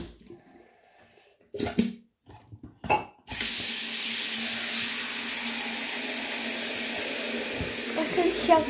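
Water runs steadily from a tap into a sink, a continuous close hiss that starts abruptly after a few brief knocks and handling sounds and carries on evenly to the end.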